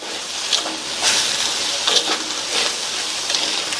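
Ponnanganni greens with salt sauté in a pan for a poriyal, giving a close, continuous sizzling hiss that swells in short bursts as the leaves are stirred.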